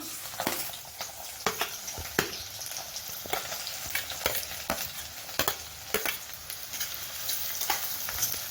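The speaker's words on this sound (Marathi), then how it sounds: "कांदा फ्राय करून घेऊया" Chopped onion frying in hot oil in a kadhai, a steady close sizzle broken by repeated scraping stirs of a spatula at an uneven rhythm.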